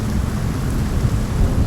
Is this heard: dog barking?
no